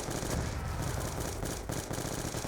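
The Hammer light machine gun in Call of Duty Zombies fires as a loud, continuous rapid burst of heavy automatic shots that runs unbroken, close up and with no talk over it.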